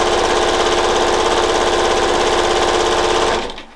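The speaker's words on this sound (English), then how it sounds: "So you just sew 2 together." A sewing machine runs steadily for a few seconds as fabric strips are sewn together in pairs for quilt panels, loud and close, then stops abruptly.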